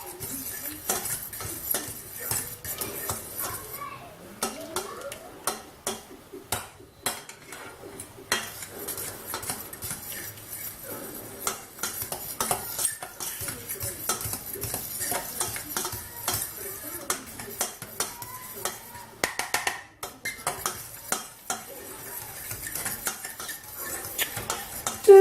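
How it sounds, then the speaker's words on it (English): A utensil scrapes and clinks steadily against a pan while cheesy buffalo chicken spaghetti squash is stirred over high heat, with a faint sizzle underneath. "make sure you keep stirring because you don't want it to stick or burn to the bottom of the pan"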